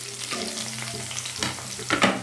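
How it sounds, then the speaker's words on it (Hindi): Chopped onion frying in a pan with cloves and cinnamon, a close, steady sizzle with a few stirring scrapes near the end, brief and alone. "प्याज को हल्का सा गोल्डन ब्राउन होने तक भूनेंगे"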